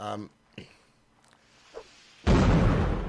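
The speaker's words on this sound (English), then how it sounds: "Nice long distance cannon there." A single loud, rumbling cannon boom from a Napoleonic Wars video game line battle, arriving abruptly after brief speech and decaying over the final second.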